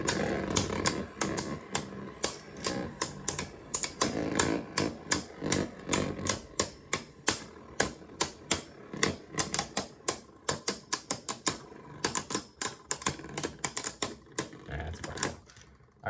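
Beyblade spinning tops, Ragnarok and Achilles, clashing in a stadium, dense rapid clattering hits that stay steady and close for about sixteen seconds with brief pauses.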